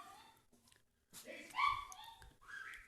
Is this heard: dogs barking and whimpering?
yes